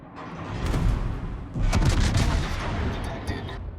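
Naval guns of warships fire in World of Warships, a heavy boom at the start and a louder broadband blast about halfway through, followed by rumbling echoes that trail on to the end.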